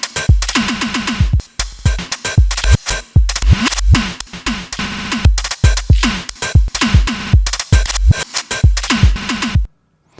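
A drum loop chopped by a beat repeater built in Bitwig's FX Grid: kicks, snares and hats stutter in rapid repeated bursts with abrupt gaps and cuts, loud and close, with no voice, stopping cleanly just before the end.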